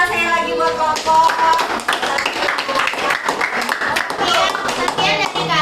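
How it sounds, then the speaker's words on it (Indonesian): A classroom group claps together for a student group during a teaching practice session, uneven and lively clapping with children's voices chattering and calling over it throughout. "Oke, kasih tepuk tangan saya lagi buat kelompok."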